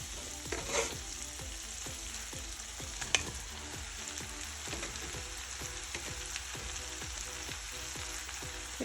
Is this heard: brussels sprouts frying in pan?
yes